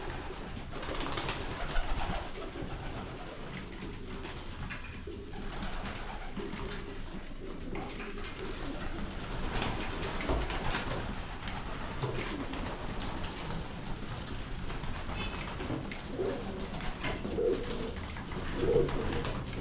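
Pigeons coo softly and repeatedly in an enclosed loft while feeding, low murmuring calls overlapping amid faint rustling and background hum.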